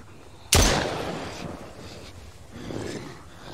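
A single loud gunshot in the survival video game Mist Survival cracks close and sudden, then decays into a long rumbling echo with faint ambient noise after.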